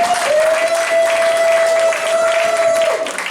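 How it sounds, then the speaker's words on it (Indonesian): Church congregation at a Sunday service cheering and clapping together in loud sustained applause, with a steady held tone ringing through the crowd noise. "Berikan sorak-sorai buat Tuhan Yesus"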